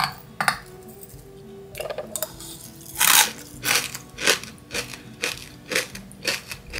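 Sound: crunch test of homemade puffed rice cereal

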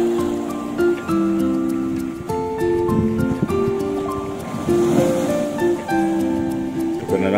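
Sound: ocean waves crashing at a beach jetty

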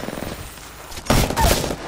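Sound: Spitfire machine gun firing in the video game Apex Legends

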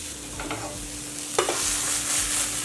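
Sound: dry roasting sprouted moth beans in a pan

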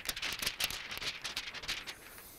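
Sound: thin membrane sheet crinkling when moved

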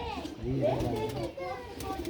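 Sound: pigeons cooing

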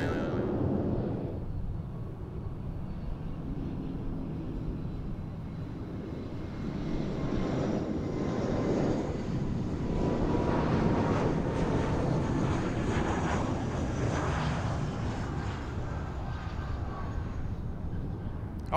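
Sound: Frontier Boeing airliner landing at Fort Lauderdale runway 10L

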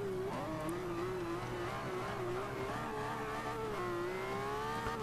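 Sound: race car engine revving, Forza Motorsport 5 video game

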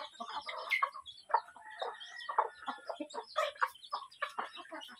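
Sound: chickens clucking while being fed

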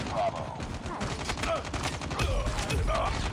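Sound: shotgun fire in Call of Duty Mobile video game

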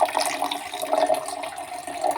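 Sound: water being added to a jelly drink

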